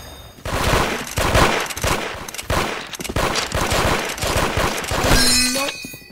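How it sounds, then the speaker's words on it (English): Rapid bursts of automatic gunfire rattle loudly and almost continuously in an online shooter game match, with sharp shots packed close together and a short ringing tone near the end. "He just shot me."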